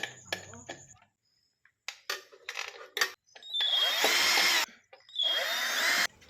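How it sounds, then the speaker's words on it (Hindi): Power screwdriver driving screws into the cover of an MCB box during house wiring, in short bursts followed by two longer whirring runs, close and fairly loud, with no talk. "तो अब इसके ऊपर का कवर लगा देंगे और स्क्रू से अच्छी तरह से टाइट कर देंगे।"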